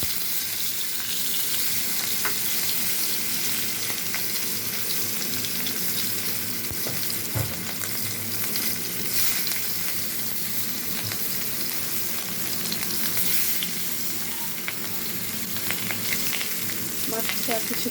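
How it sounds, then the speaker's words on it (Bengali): Rohu fish frying in hot mustard oil in a kadai, a steady, dense sizzle and crackle that stays loud and even throughout, with a few brief louder spatters and no talk. "সরিষার তেলটা একটু গরম হলে মাছটা আমি ছেড়ে দিব"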